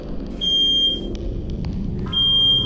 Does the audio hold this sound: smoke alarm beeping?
yes